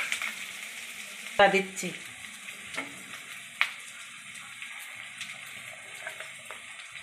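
Four green chilies hit hot oil in a pan for palak paneer, bursting into a sharp crackling sizzle followed by softer intermittent spatters and a few utensil knocks, with a voice speaking briefly.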